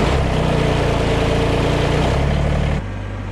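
A Kubota tractor engine runs at a steady, loud idle close by, a low droning rumble that drops to a quieter, lower hum near the end, with no talk.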